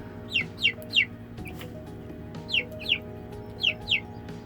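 Chickens give short clucking calls in small bursts, mixed with other birds kept together with them, close by over a low steady background hum.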